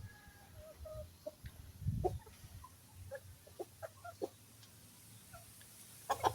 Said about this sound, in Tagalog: Kita mo yung mga manok.